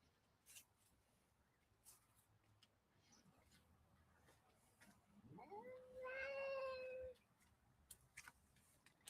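A cat wearing a harness outdoors lets out a single drawn-out, wavering meow, fairly close and clear, after a stretch of quiet ambient noise with faint ticks.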